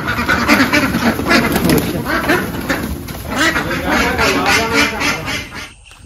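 A group of ducks quacks loudly and nearly continuously close by, overlapping calls filling the scene before tapering off near the end.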